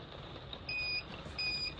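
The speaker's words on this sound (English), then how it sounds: "It will beep at you and you can see the caravan is now off." A Swift caravan's command panel gives two short electronic beeps as it switches off, fairly faint against a low background hum, with no voices.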